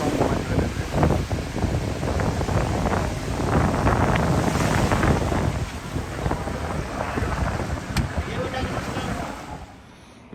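Racing boats speed across the sea at Mathagal, their roar blending with heavy wind buffeting the microphone and rushing water in a continuous loud wash that eases near the end.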